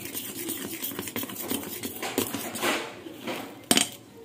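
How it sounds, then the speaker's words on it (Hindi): A spoon scraping and stirring dhokla batter in a bowl, a quiet, steady run of soft clinks and swishes ending with a sharper knock. "मम्मा ने स्पून से मिक्स करना स्टार्ट कर दिया है"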